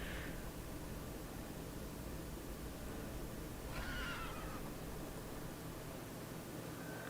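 A horse whinnies twice in a video game, a short call near the start and a louder, clearer neigh around the middle, over a steady hiss of background noise with no talking.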